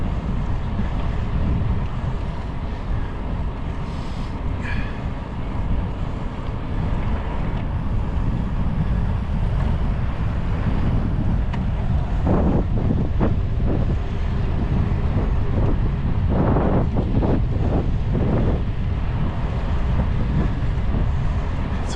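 Headwind buffets the microphone during a bike ride on a greenbelt path, a loud steady rushing roar throughout with some faint clicks and rattles underneath.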